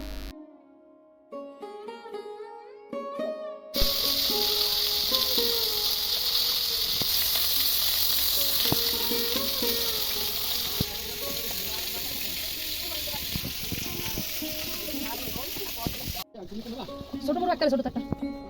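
Chicken curry cooks on a stove with a loud, continuous sizzling hiss that lasts for many seconds. Voices speak over it at times, and clattering sounds come at the start and end.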